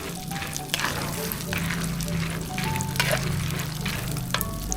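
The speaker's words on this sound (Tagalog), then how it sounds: "Ganito lang yung gusto ko ng pagluluto ng mani. Yung hindi siya lubog sa mantika." Peanuts fry in a small amount of oil with a steady, close sizzle and crackle, while occasional stirring clatters and faint tones sound in the background.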